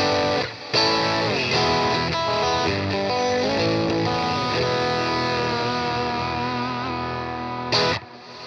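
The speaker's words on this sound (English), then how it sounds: "Let's put some reverb on now." Electric guitar played through a Boss RV500 set to a non-linear reverb, sustained distorted chords and melodic lines that ring and smear together, loud and continuous with a brief gap near the start and a swell near the end.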